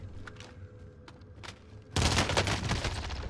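PPSh-41 submachine gun in Rebirth Island, a video game, opening up at about two seconds with a loud sustained burst of rapid automatic fire after a quieter stretch of faint game sounds.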